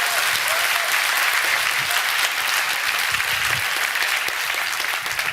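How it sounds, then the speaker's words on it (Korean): A church congregation claps through a Korean Sunday worship service, a loud dense burst of applause sustained evenly from start to finish. "박수 치세요."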